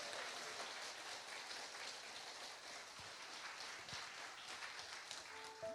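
Church congregation applauding during a live worship and testimony service, a steady dense wash of clapping that fills the whole stretch at moderate level, with a brief tone near the end.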